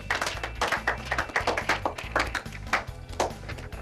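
Loud clapping from a small group at a showcase party, a quick run of sharp, closely spaced claps over a thumping backing track.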